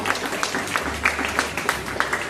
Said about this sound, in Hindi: एक बार और जोरदार तालियां हो जाए दोनों गुरुजी के लिए